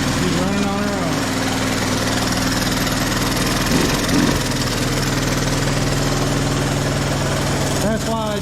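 A 1984 Honda Big Red ATC 200es three-wheeler, smoking, idles steadily on its own with a continuous low mechanical drone, loud and close, while people talk briefly over it at the start and near the end.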